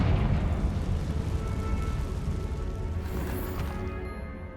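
The Confringo fire spell in Hogwarts Legacy erupts in a loud, sustained booming roar that rumbles heavily through the low end and slowly fades over several seconds, with no voices.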